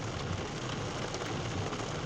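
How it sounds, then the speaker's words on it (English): Steady, dense rain from an afternoon thunderstorm in Van Wert, Ohio patters on a surface, a constant hiss of drops with no pauses. "Here comes the rain."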